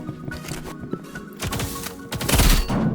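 Gunfire in the Roblox game Rivals rattles off in a fast volley at the player, several sharp shots clustering and growing louder toward the end, with no talk over it.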